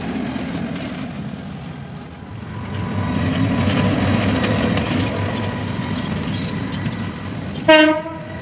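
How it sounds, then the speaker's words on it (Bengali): A single-coach train on a trial run rumbles past at moderate distance, its steady roar swelling and fading, followed near the end by a short, loud horn blast. "আর এ সময় সিঙ্গেল বগির কয়েকটা ট্রেন ট্রায়ালে চলে"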